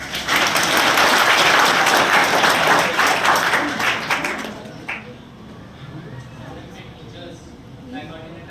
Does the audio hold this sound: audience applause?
yes